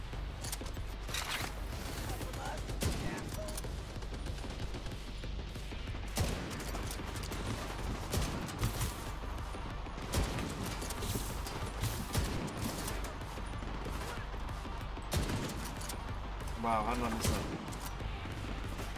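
Gunfire from a video game shooter, The Division 2, crackles in repeated bursts and single shots throughout, dense and fairly loud, with game noise and someone talking over it.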